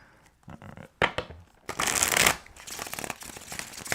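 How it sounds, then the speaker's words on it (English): A deck of tarot cards shuffled by hand, close and crisp, with scattered riffles and taps building to a dense, longer shuffle burst, then lighter card handling; no speech. "let me stop shuffling here"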